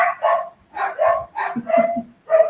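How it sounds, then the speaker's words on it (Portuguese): Dogs barking repeatedly in short yapping bursts, several barks in quick succession with brief gaps, loud and close with no talking over them. "Eles estão latindo muito agora aqui."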